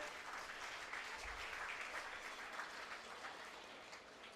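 A crowd at a political workers' gathering claps steadily, a dense, distant-sounding wash of applause that stays even and fairly faint throughout.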